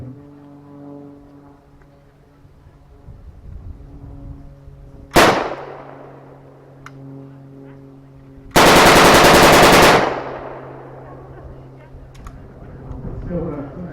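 A wartime Mark II gun firing blanks outdoors at a 1940s re-enactment day, with one sharp report followed by a loud sustained burst of rapid fire, against a steady background drone and nearby voices.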